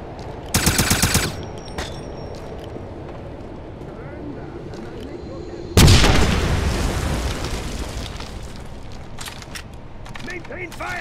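Gunfire in Wolfenstein (2009): a rapid automatic burst rattles out early, then a loud blast hits with a long decaying roar, leaving a busy bed of game noise and scattered shots.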